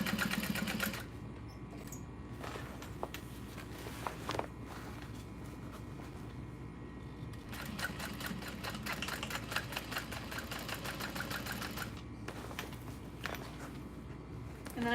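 A sewing machine runs in steady bursts while back stitching a bag handle, its rapid mechanical chatter starting and stopping several times with brief pauses between runs.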